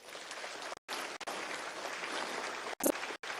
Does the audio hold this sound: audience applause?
yes